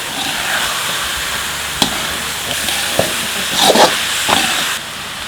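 Fish goes into a hot pan with sautéed onions for a South Indian fish curry and sets off a loud, steady sizzle and hiss. Clinks and a few scraping bursts of cookware sound through it.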